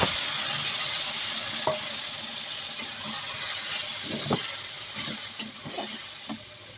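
Boiled greens added to hot oil with cumin and stirred, a continuous loud close sizzle and hiss that slowly eases, punctuated by scattered spatula scrapes and taps.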